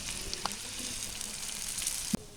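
Tomatoes sizzling in a pan for a Bengali village-style fish curry, a continuous close frying hiss with a few light stirring clinks and one sharp knock near the end.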